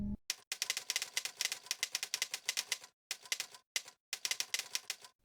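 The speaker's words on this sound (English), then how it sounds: "It has sounds that play when you type." Typing sound effects played by gaming keyboard software, rapid clacky typewriter-like keystrokes in uneven bursts with brief pauses between runs, crisp and close.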